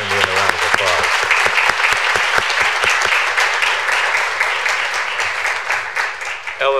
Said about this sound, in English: So if you could join me in a round of applause.